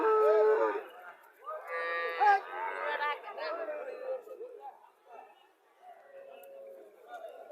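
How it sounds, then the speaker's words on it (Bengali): Friesian dairy cows low at a cattle market, with drawn-out moos at the start and near the end, while people chatter and talk in the background. "প্রিজিয়াম জাতের প্রচুর গাভী"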